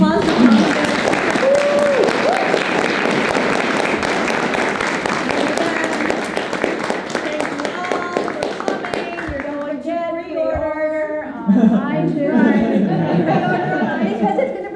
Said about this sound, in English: Let's give a round of applause to Tom.